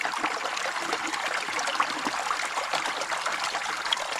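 Steady flowing water trickles and splashes continuously, a close, even wash of sound with no pauses.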